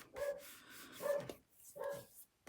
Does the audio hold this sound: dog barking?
yes